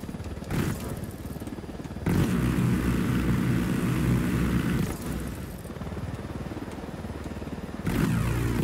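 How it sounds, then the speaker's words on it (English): A helicopter in Ghost Recon Wildlands flies and descends, its engine and rotors a loud, continuous droning roar that swells and shifts in level several times. "Come on, helicopter, down."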